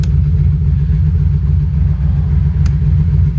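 A 1986 Suzuki Cavalcade GV1400 motorcycle engine idles while warming up, giving a steady, close, loud low rumble with an even throb throughout and no voices.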